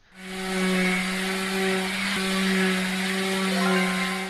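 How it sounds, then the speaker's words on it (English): Power sander in the Toy Tinker Simulator game: a steady, loud motor whine with a strong tonal hum, running continuously for several seconds with a brief dip midway, no talking. "Now let's go over here to our power sander."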